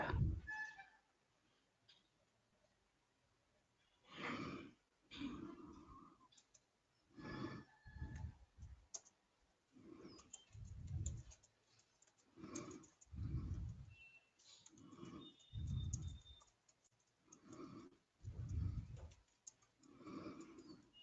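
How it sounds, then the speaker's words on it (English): Typing on a computer keyboard in Notepad gives irregular bursts of soft clicks and taps, close by and quiet, with pauses between short runs. "I will type on notepad."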